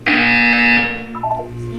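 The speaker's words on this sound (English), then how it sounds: "You will hear a buzzer." A loud, harsh electronic buzzer sounds in a Portal 2 test chamber. It holds a steady tone for most of a second, then gives a few shorter pulses as it fades.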